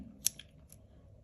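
A pair of scissors clicks and snips a few times, quick and close, against a quiet room background.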